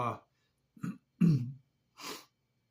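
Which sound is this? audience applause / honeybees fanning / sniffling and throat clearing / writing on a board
sniffling and throat clearing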